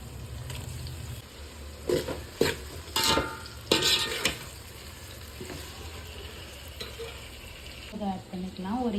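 Tomatoes and ginger garlic paste go into a pan for chicken biryani, with a low steady sizzle broken by several louder stirring scrapes and clatters, then a brief bubbling at the end; no talking.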